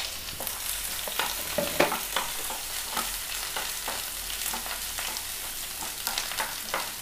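Onion, green chili, ginger and curry leaves fry in coconut oil in a pan, a steady close sizzle with scattered scraping stirs and light clicks of a spoon throughout.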